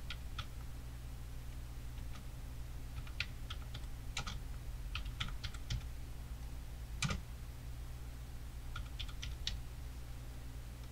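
Keys tapped on a computer keyboard while entering a credit card number, scattered bursts of light clicks over a steady low hum, with short pauses between groups of strokes.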